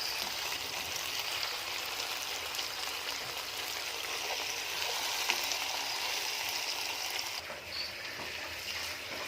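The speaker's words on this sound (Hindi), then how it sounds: "ये कचनार शामिल करने के बाद ही मैंने इसको तकरीबन 5 मिनट तक इसको भुना है" Boneless chicken pieces and kachnar buds frying in a pan, a steady, dense sizzle that holds evenly throughout at moderate level, with no voice over it.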